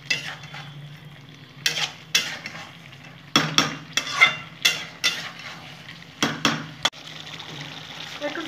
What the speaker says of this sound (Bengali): যতক্ষণ না মশলা থেকে তেলটা সেপারেট না হয়ে যায় ততক্ষণ তো কষাতে থাকবো